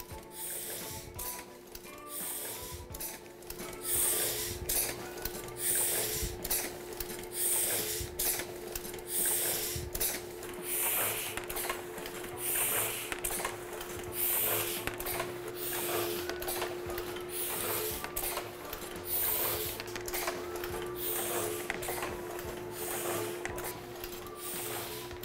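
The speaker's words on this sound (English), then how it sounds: "what goes on when we're printing with letterpress" A letterpress printing press running business cards in a print shop, with a steady mechanical rhythm of repeated clacks and a constant hum, loud and close throughout with no talking.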